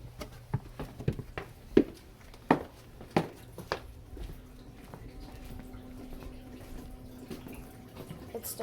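Water gushing out of a clogged basement drain, a steady low running flow with a few sharp splashes and knocks early on, fairly quiet and close.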